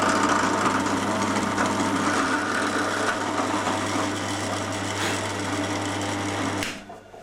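A drill boring tuner holes in a wooden guitar neck, running as a steady close whir with a constant low hum, then cutting off abruptly near the end.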